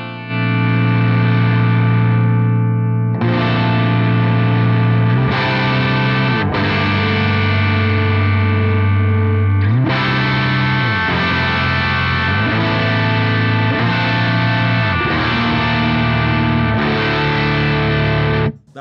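Electric guitar through a JPTR FX Filth distortion pedal with the volume cranked, loud saturated chords ringing out and changing every few seconds, thick and fuzzy with no talking.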